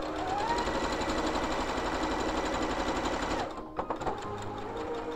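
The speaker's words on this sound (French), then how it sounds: "quand je couds du jersey comme ça, de la maille" A sewing machine runs steadily and loudly while stitching jersey knit fabric, then slows and stops, followed by a few light mechanical clicks.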